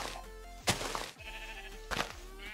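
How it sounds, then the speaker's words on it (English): Minecraft sheep bleating, two nasal, wavering baa calls close by, separated by about a second, each with a short sharp onset and harmonic tail. "There's another sheep up there eating."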